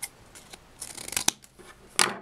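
Scissors snip through paper while shaping a paper samurai sword, a few sharp, close cuts scattered unevenly with one crisp final snip, no talking.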